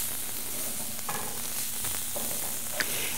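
Cabbage sautéing in a pan, wilting as it cooks, gives a steady, close sizzle and crackle that runs unbroken for a few seconds, with light stirring noises and no talking.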